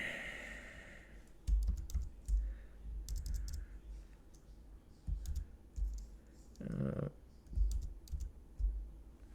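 Typing a Linux terminal command on a computer keyboard gives quiet, uneven clusters of key clicks and taps, close and soft, with a few brief pauses between bursts.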